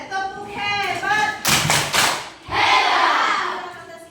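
A group at a school counselling session performs a clapping chant, with voices chanting together and bursts of loud coordinated claps and taps in rhythmic clusters, close and energetic.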